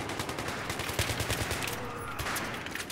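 Rapid bursts of Battlefield 3 gunfire crackle over a dense, noisy battle soundscape, with sharp shots repeating steadily and no clear talk.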